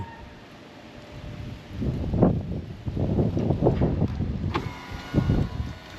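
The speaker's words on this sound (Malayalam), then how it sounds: "രാവിലെ കാറ്റ് കണ്ടോ എന്താ കാറ്റെന്ന് നോക്കി ഒരു വല്ലാത്ത കാറ്റാട്ടോ ഇവിടെ ഭയങ്കര കാറ്റ്" Strong early-morning wind blows outdoors, rushing and rumbling in uneven gusts that swell louder through the middle and batter the microphone.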